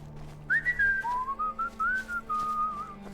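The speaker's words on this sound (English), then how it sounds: "Whistle. Whistle to Inigo." A melodic whistle in the Skyrim video game, used to call a companion, rises and falls through a short tune of several clear, sustained notes, fairly loud and alone.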